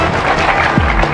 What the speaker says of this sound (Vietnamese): Chúng ta cho ba thí sinh một tràng pháo tay để cổ vũ tinh thần cho họ.